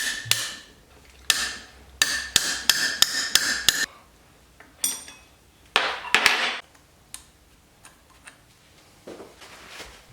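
A hammer strikes a box-end wrench on the cylinder bolts of a YZ250 dirt bike engine, sharp metallic clanks coming in a quick series of blows, then scattered single hits with short pauses between.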